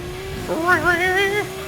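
A voice imitates a car engine from the Gran Turismo 2 racing game, a rising, wavering revving hum that climbs and warbles for about a second before trailing off.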